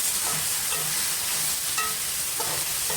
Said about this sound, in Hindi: और इसमें मैंने शामिल कर दिया है पास्ता, और पास्ता के साथ मैं इसको करूँगी अच्छी तरह से मिक्स